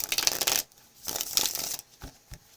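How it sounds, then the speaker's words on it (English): A deck of cards shuffled by hand during a card reading: two quick riffling bursts, each about half a second long, followed by a couple of soft taps as the cards settle. The sound is close and fairly quiet, with no talking. "I put all those cards back in the deck. I'm going to shuffle."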